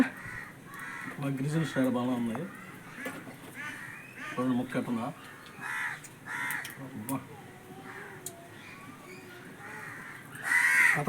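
Harsh crow caws ring out at intervals, some near and some farther off, mixed with a voice speaking intermittently.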